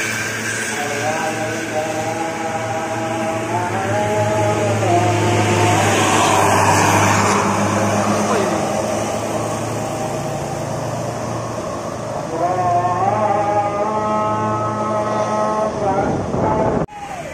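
Three Al Mubarok buses pull into a parking area with engines droning low and steady, while rising tonal notes and voices carry over the rumble until it cuts off near the end.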